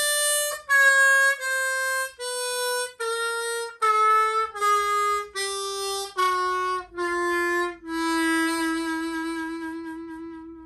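Harmonica playing eleven separate sustained notes from only three holes, a steady stepwise run of bent and unbent tones, each note clearly separated, loud and solo with no talk.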